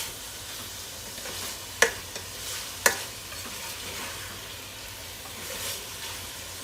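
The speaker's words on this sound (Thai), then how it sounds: "เอามาคั่วพร้อมๆกันเลยเจ้า" Beef with tendon and shank and green mustard greens stir-fried together in a pan for a homestyle curry: a steady close sizzle, with two sharp scraping knocks of the spatula and softer stirring noises, and no talk.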